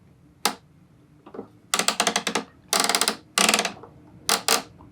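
Bursts of rapid plastic clicks as the channel knob on a LEGO NES toy TV is turned, several quick ratcheting runs separated by short pauses, close and crisp.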